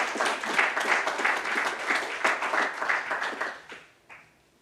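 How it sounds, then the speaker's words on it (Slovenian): An audience at a Slovenian award ceremony applauds a prize winner, a dense burst of many hands clapping that carries on steadily, then thins and fades out near the end. "Še en aplavz, dajmo našem nagrajencu."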